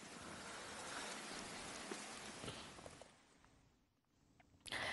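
Unseasonal rain falls steadily in a dense hiss of drops on surfaces, fairly close, then thins out briefly before picking up again near the end, with no talking.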